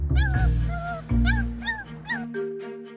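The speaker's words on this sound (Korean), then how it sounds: "가만히 앉아서 움직이질 않고 낑낑거려요" A Pomeranian whines and whimpers in a series of short, rising yelps, repeated several times close by over a low background tone.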